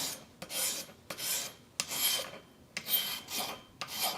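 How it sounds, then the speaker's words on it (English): A dedicated sander cleans the edges of enamel trivets in short rasping bursts, about six strokes with brief gaps between them, close and alone. "I have a dedicated sander just for that"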